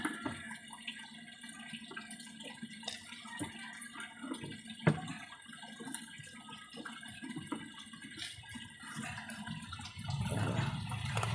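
Tap water pours into the tub of a twin-tub washing machine under repair, a steady broadband rush that builds toward the end as the tub fills, with a few clunks and knocks on top.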